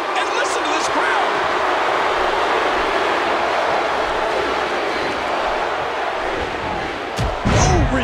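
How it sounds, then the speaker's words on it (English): A dense, roaring wrestling arena crowd cheers loudly and steadily during a comeback at a WWE event, a broad wall of noise with a brief louder swell near the end. "Now this is a comeback. And listen to this crowd."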